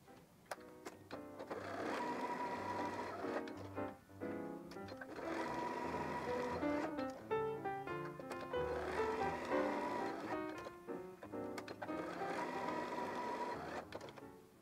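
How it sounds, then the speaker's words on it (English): Sewing machine stitching side seams of a small fabric box basket, a quiet rapid mechanical whirring in repeated runs of a few seconds each separated by brief pauses, heard alone. "The sewing here is gonna be from top to bottom, back stitch at the beginning and end"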